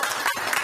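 Brief snatch of audience applause at a community board monthly meeting, a short spell of steady clapping that is cut off almost immediately.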